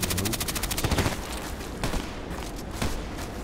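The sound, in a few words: gunfire from video game Contract Wars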